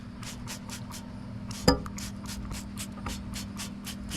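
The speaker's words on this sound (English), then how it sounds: "That's kind of a traditional spray." A spray bottle of cleaner degreaser is pumped in a quick run of short, even bursts, with a sharp clack from a handled object partway through, close and alone.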